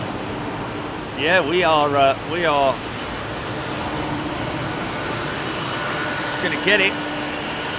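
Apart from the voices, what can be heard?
United airliner jet engines lining up on runway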